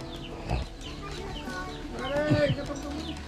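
Chickens cluck softly in the background while people talk nearby, with a few louder squawks partway through.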